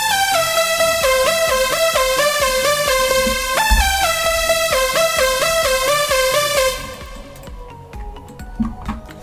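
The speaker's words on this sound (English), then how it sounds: "you should get some leads that sound like this." Bright progressive house synth lead plays a quick, stepping melody of stacked harmonic notes, loud and steady, before cutting out near the end as a beat with kicks carries on alone.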